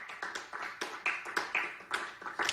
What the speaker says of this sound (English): Small crowd applause.